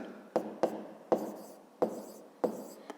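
Pen or pencil writing out a fifth-grade math exercise on paper, with several sharp taps and scratchy strokes at irregular intervals, close and fairly quiet with no talk.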